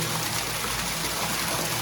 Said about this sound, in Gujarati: જોરદાર પાણી આવી ગયું છે 150 ફૂટ દાર થયો છે